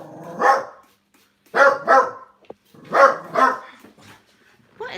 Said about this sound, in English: What is it he's barking at?